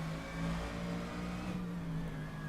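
A Mercedes-AMG GT3 race car engine in rFactor 2 drones steadily at sustained revs, with a strong low hum and tonal harmonics, unbroken and fairly close.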